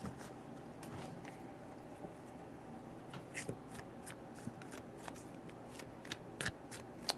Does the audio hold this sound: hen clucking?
no